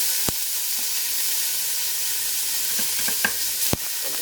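Bacon pieces, cut from three slices, sizzling in a warm pan: a steady, even frying hiss throughout with a few sharp pops and light clicks, close up and without speech.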